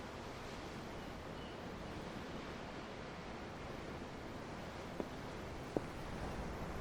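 Ocean waves in the Tales of Arise video game wash in a steady, even roar heard from on board a ship, with two faint clicks near the end.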